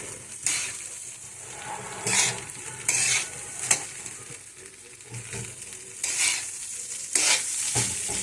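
Fried rice stirred in a hot pan, a steady sizzle broken by repeated bursts of scraping stirring strokes at an uneven rhythm, close and fairly loud with no talking.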